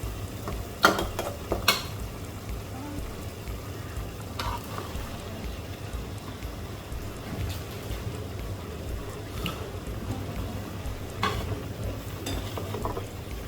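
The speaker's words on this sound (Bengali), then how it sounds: "আলুটা একটু হয়ে এসেছে, এখন আমি দিয়ে দিব ঢেঁড়সটা।" Okra, potatoes and spices sizzle softly in a frying pan while being stirred, with a steady low fry punctuated by a few sharp utensil scrapes and clinks early on.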